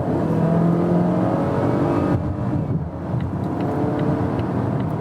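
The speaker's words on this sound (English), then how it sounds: "this 4-cylinder engine, of course, you hear how it's working" A Volvo XC40 T4 four-cylinder engine drones loudly and steadily accelerating from 60 to 100 km/h, its pitch holding then dropping briefly as if shifting gear before pulling on again.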